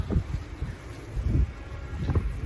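Strong wind gusts through a New York snowstorm, a broad rushing roar with buffeting surges close to the microphone, steady and loud throughout with no talk.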